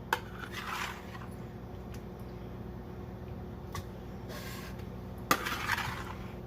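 Pumpkin puree being scooped into a container in a home kitchen, soft scraping and a few light clinks of utensil against dish, quiet and close with a low background hum.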